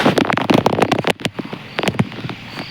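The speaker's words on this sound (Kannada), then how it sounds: "ಈಗ ಹೊಡ ಹೋಗ್ತಾವೆ ನೋಡ್ರಿ ಅಲ್ಲಿ ಪಟಾಕಿ ಹೊಡೆದು" Rapid firecrackers burst in a loud, irregular string of sharp cracks and pops, with a brief lull in the middle before more bangs follow.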